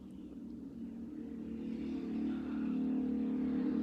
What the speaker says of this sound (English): It's a motorcycle going by.